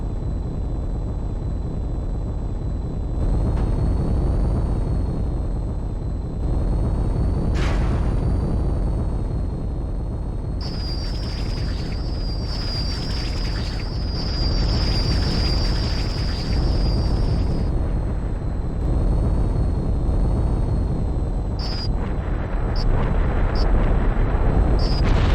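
Bombs striking turrets and bunkers on the ground in the Tribes: Aerial Assault video game, heavy steady rumble with booming blasts under constant aircraft engine drone and high electronic tones.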